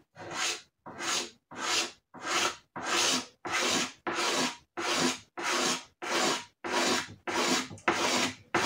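Cutter blade scraping paint from a 1993 Honda CR 125R fuel tank: about a dozen steady, evenly spaced rasping strokes, close and fairly loud, with short gaps between them.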